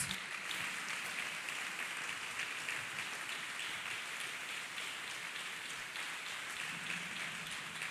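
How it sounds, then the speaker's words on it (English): Church congregation clapping hands for Jesus during a testimony service, a dense, even patter of applause lasting several seconds, fairly soft and without speech. "Clap hands for Jesus, people of God."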